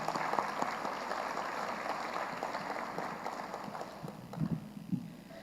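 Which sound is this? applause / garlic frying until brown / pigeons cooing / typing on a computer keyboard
applause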